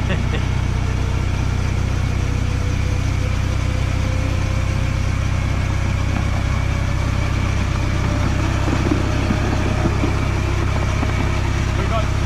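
Engine of a Diamond Valley Railway miniature locomotive running on rough track in Melbourne, a steady close low hum and vibration that holds throughout, with voices talking over it.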